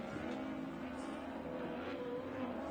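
An off-road race truck on a short course screams past at full throttle, its engine loud and steady with a sustained high-revving roar and no break across the pass.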